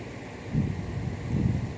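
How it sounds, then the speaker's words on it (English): Steady, soft wind noise rumbles low and close to the microphone outdoors during a yoga session, gusting slightly stronger twice. "It's very windy."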